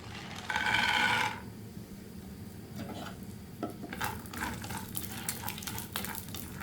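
Peanuts are dry-roasted in a pan for lunch, opening with a short loud burst of scraping and then a stretch of soft, close stirring rattles and clicks over a low sizzle.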